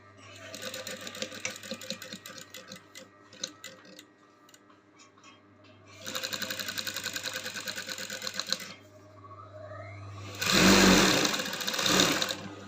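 A sewing machine stitches a pocket seam on a flared pinafore dress in three separate runs of rapid ticking, separated by quieter pauses. The last run is the loudest and densest.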